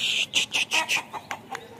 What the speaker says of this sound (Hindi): चलते हैं घर दूसरी मुर्गियों को बंद करते हैं